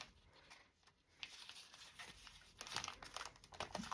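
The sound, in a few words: paper being folded in half for a journal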